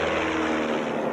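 Light airplane engines drone steadily overhead in a continuous, loud, unbroken hum with no voices.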